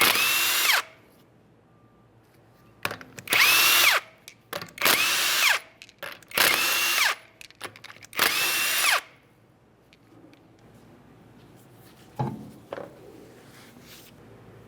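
Power tool, likely an impact wrench, spinning off 19mm lug nuts from a Ford Fusion wheel: five loud whirring bursts of about a second each with short pauses, then quieter handling clatter afterward.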